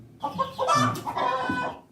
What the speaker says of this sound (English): you have a chicken sound